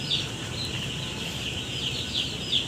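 Three-day-old broiler chicks on a poultry farm with wood-shavings litter make repeated thin, high peeping calls over a soft, steady room hum.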